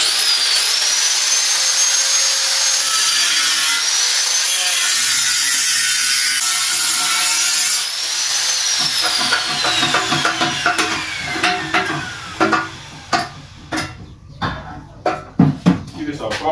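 A power tool grinds through scrap metal while building a homemade stove, a loud sustained whine with shifting pitch that gives way to a series of sharp metallic clanks and rattles near the end.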